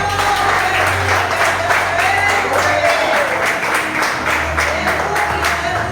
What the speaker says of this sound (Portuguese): Dê uma salva de palmas nesta palavra.